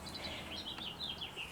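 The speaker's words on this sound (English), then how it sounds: "can hear the birds in the background" Faint birdsong outdoors, a few high chirps and short trills scattered through a steady background hiss, distant and soft.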